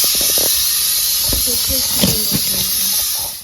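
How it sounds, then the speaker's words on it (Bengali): Pressure cooker cooking dal, probably over a clay stove, releases a loud, steady hiss of escaping steam for the whole stretch, with faint clatter and low tonal bits underneath. "এবার প্রেসার কুকারে ঢাকনাটা লাগিয়ে দেবো, 5 থেকে 6টা সিটি মারা হয়ে যাবে"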